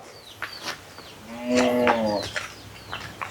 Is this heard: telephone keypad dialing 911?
no